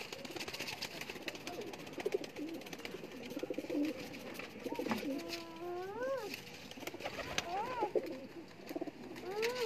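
A chapra pigeon coos softly, a few rising and falling calls repeated over a quiet outdoor background, with faint voices around it.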